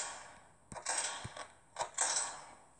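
A door mechanism in the video game Five Nights at Freddy's clanks and creaks shut, two sharp mechanical knocks each followed by a grinding whirr, loud and close with no talk.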